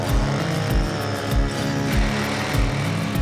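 A powered ice auger bores through lake ice on a South Dakota jumbo perch outing, its small engine droning loud and close with a rhythmic, pulsing churn.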